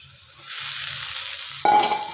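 Fried okra being stirred in a pan of spiced oil for a North Karnataka style okra palya, a steady close sizzle and frying hiss with a louder burst of sizzling and scraping near the end.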